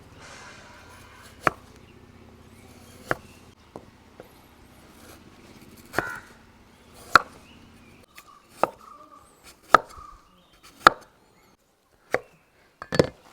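A knife chops washed, deseeded gooseberries (amla) on a cutting board for juice, making about a dozen sharp, isolated knocks at irregular intervals, with faint scraping and handling between cuts in an otherwise quiet kitchen.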